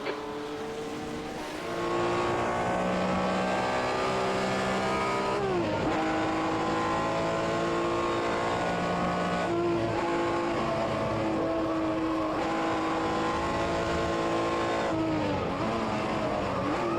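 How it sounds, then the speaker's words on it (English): Race car in a 1964 sports car racing game at Bridgehampton, engine droning loud and steady with rising and falling pitch through gear changes, another car nearing from behind. "Watch your mirrors, there's a car approaching."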